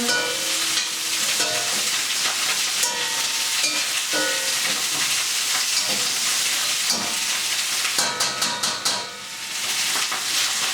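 Herbes de Provence and turmeric are stirred in a sizzling pot, with a steady frying hiss and repeated scraping, clinking strokes of a spoon against the pot.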